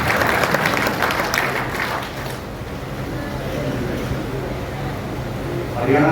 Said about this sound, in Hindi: माननीय रामपाल लालदास जी, आप जोरदार ताली मांगे प्रदेश अध्यक्ष जी का स्वागत करने का काम करें